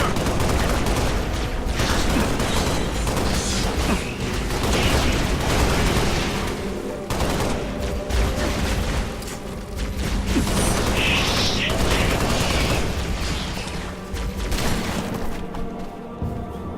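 Dense gunfire and heavy booms from the video game Halo Reach continue in near-constant loud bursts, with mechanical clatter mixed throughout.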